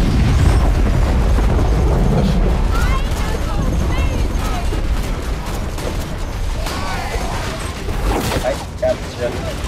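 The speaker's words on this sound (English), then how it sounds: "did you hear the cracking noise that came from his death?" A loud, dense burst of crackling, booming Borderlands 2 effects as an enemy dies with a cracking noise, chaotic noise throughout, while excited voices shout over the top.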